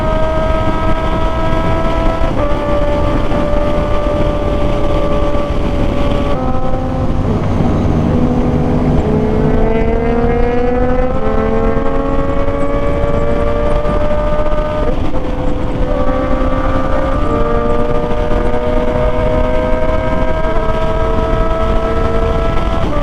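A Honda CB650R motorcycle ridden off-road, its exhaust droning loud and close with rising and falling engine pitch as the rider shifts through gears over a sustained stretch, with no voices.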